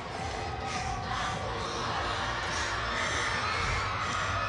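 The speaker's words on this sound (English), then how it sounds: "Now cheering upstairs." Spectators cheer from upstairs at a school athletics meet, a steady, fairly distant wash of crowd shouting and children's voices that holds evenly throughout.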